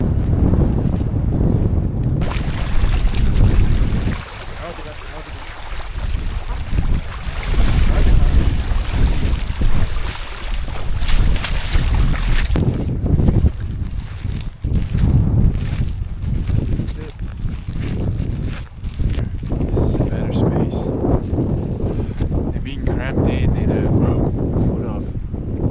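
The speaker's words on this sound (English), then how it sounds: "Pretty cold out here and windy, getting windier" Strong gusting wind during a 60 mph storm batters the microphone with loud, continuous roaring rumble that surges and dips, with people talking intermittently underneath.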